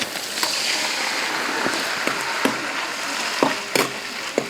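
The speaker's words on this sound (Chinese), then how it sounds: "煸香，再炒剁椒。" Chopped chili sauce with minced ginger and garlic sizzles steadily in a hot wok, with intermittent scraping clicks of a spatula as it is stir-fried close by.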